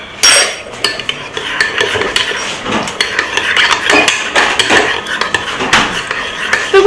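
Utensil stirring food in a dish, with steady clinking and scraping of metal against crockery, close and fairly loud, repeated through the stretch without talk.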